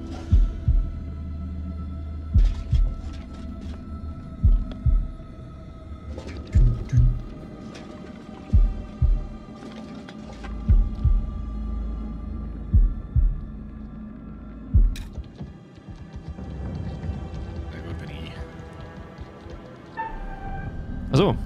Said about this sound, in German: ja, Herzschlag wieder drin